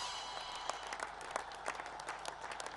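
A stadium crowd at a PSL cricket match applauds Kusal Mendis's century, bright steady clapping spread wide with some cheering mixed in.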